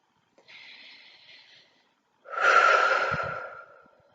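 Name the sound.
deep breath in and out during EFT tapping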